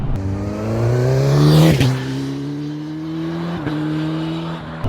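A 2021 Suzuki GSX-S1000 sport motorcycle engine drones steadily at close range while riding, its pitch climbing briefly then dropping with a gear change before settling into an even hum, around 3,100 rpm in sixth gear at 50 mph.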